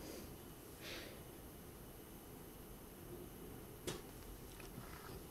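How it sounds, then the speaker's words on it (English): A short nose-close sniff, then a second sharper one a few seconds later, at a glass of Northern Monk OFS096 barrel-aged imperial stout, both faint over a quiet room hiss with no talking. "Let's have a wee sniff at it."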